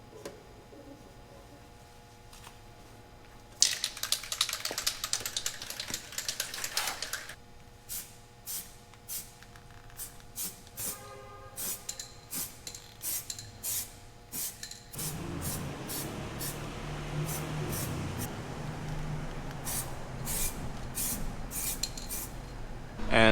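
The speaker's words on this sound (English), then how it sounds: "Now let's go and let's hit it with the primer." Primer sprays onto a Jeep TJ door in short hissing bursts with brief pauses between them, followed by a longer, denser stretch of spraying. The bursts are close and moderately loud.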